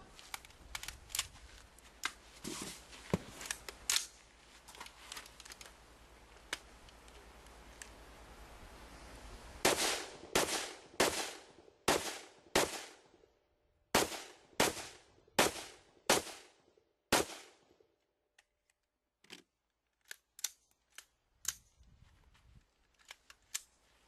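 A standard 16-inch barrel M4 rifle fires M193 55 grain ball rounds at steel plates outdoors: scattered single shots, then a paced string of loud, sharp reports with echoing decays, tapering to sparse shots.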